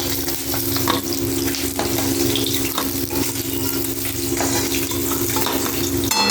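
Pieces of rohu fish fry in hot oil in a pan: a loud, steady crackling sizzle close by that runs without a break, with occasional clinks as the pieces are turned and lifted.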